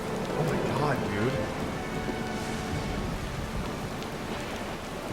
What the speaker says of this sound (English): The storm rages on, showing no signs of subsiding.